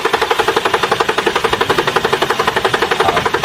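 Tired car engine stuttering during a restart attempt, a rapid, even chugging pulse repeating about ten times a second with a knocking, buzzy tone, steady and close.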